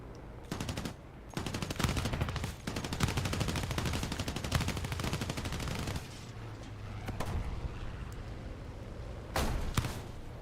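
Aircraft gunners firing machine guns in War Thunder, long rapid bursts of automatic gunfire broken by short pauses and a few sharp final bursts, loud and close with no talking.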